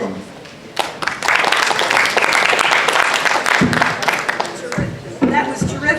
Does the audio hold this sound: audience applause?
yes